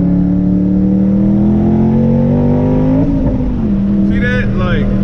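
Twin-turbo Ford Mustang Boss 302 with an On3 kit at full throttle: a loud engine note climbing steadily in pitch, dipping at a gear change, then pulling again, with a voice briefly over the end.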